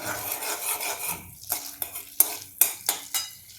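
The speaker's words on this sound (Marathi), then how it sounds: "या बटरमध्ये मी आता हा बारीक कापलेला लसूण घालून घेत आहे" Finely chopped garlic is stirred in butter in a pan over high heat while making vegetable thukpa, with rhythmic metal spoon scrapes and clinks over a light sizzle, heard up close.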